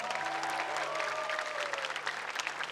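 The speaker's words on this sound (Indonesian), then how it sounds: "Aku kepingin semua di sini tepuk tangan yang meriah buat tarung dangdut" Studio audience applause at Olga Syahputra's televised birthday show, a dense, steady wash of clapping filling about three seconds, with a faint sustained tone running underneath.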